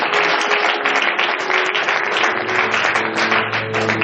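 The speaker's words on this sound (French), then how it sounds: "Donc, acclamons pour la gloire de notre Dieu." A church congregation at a worship service applauding together, loud continuous clapping from many hands that fills the room, with a faint low voice underneath in the second half.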